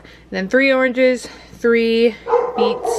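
A dog barks and yips in a kitchen during juice preparation, several sharp barks in quick succession layered under someone talking nearby.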